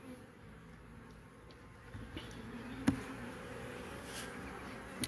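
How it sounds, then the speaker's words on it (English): Honeybees in a two-frame mini nuc colony make a continuous low, close buzzing hum with a few soft knocks and clicks over it, steady and fairly quiet with no talk. "A lot of bees in there."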